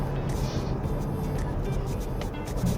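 Steady low road rumble and engine drone inside an Audi Q3 35 TDI diesel SUV from 2022 while driving, a continuous broadband cabin noise with no distinct events.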